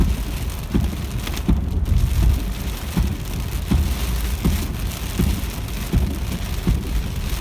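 Steady rain, just turned from sleet, falls and patters on a surface, with occasional heavier drops or thumps mixed in.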